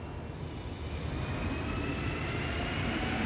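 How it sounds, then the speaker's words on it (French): A subway train rumbles steadily at close range, a continuous low roar with faint wheel squeal as it pulls into the station. "Mon métro, il est là, il arrive."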